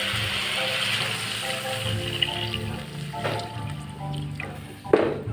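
Rice-water broth poured into a pot of sizzling chicken for tinola, a continuous liquid trickle and splash over faint frying hiss, ending with a sharper splash.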